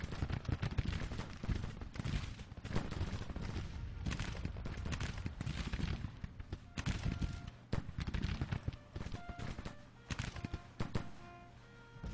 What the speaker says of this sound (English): Close range artillery fire on the go now from the 1st North Carolina Artillery Reserve blasting in here.